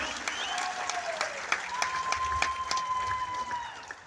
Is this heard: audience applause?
yes